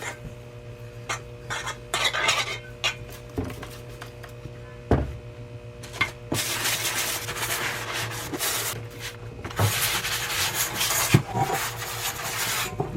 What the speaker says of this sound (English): I finished with the sanding and the polishing